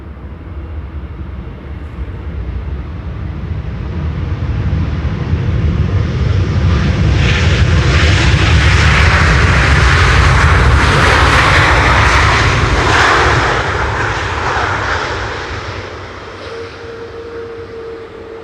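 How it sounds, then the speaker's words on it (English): A Delta Airlines airliner arriving at Schiphol Airport's Polderbaan runway roars loud and close, a broad jet rumble swelling over several seconds, peaking mid-clip and fading as it passes, with no talk. "Delta Airlines Flight 144 arriving from Seattle, Washington."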